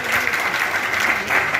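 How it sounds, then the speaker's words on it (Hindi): Dense, steady applause from an indoor audience at an electricians' meeting, continuous and fairly loud with no pauses and no talk over it. "ये तालियां क्या है, गड़गड़ाहट हमें दिखाती है कि आज हमें कितना जोश है।"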